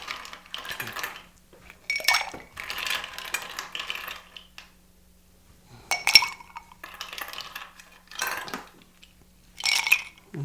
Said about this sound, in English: So now we're going to add our ice.